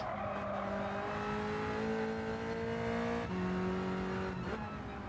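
Cosworth race car engine in Gran Turismo 7 holding a steady, loud high-revving drone, with a gear shift dropping the pitch partway through, then a brief stumble near the end.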